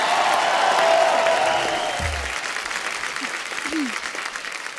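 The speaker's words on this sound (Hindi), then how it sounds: "नोरा के लिए जोरदार तालियां।" A studio audience at a Hindi television comedy show claps in a sustained burst of applause that gradually thins, with a host's voice speaking over it.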